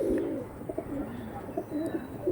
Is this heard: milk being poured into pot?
no